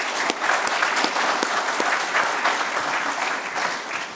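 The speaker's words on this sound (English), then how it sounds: "If we could have a little round of applause for our advisors." A room full of people claps steadily, a dense wash of applause that holds at the same level throughout.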